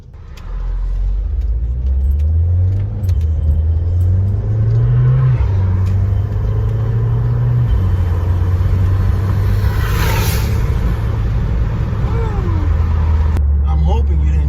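A 2015 Audi A3 2.0T quattro in manual mode pulls hard, its engine droning loudly as revs climb in steps through the gears, with road and wind rumble and a person talking inside the car.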